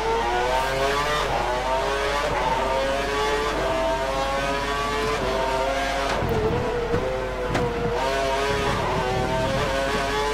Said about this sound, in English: Bloody hell, that engine revs loud.